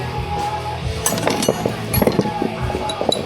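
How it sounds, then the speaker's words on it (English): A fixed ratcheting wrench turns a 10 mm bolt on the lower fuel line bracket of a 2021 GMC Sierra 1500, giving close, loud bursts of rapid ratchet clicks with short pauses between strokes. "We're gonna use a fixed ratcheting wrench."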